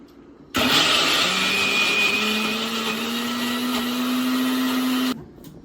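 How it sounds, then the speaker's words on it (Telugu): A mixer grinder starts abruptly and whirs loudly as it grinds green chillies, garlic and a small piece of ginger, its motor pitch slowly climbing over about four and a half seconds before cutting off sharply. "నెక్స్ట్ మిక్సీ జార్ లోపల పచ్చిమిర్చి అండ్ కొంచెం వెల్లిపాయ అండ్ ఒక చిన్న అల్లం ముక్క వేసుకొని మిక్సీ పట్టుకుందాం."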